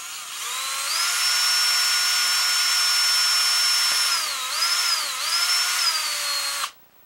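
A power drill bores straight into the body of a wooden bow stock, a loud steady high whine that holds for about six seconds, dips briefly under load near the end, then cuts off abruptly.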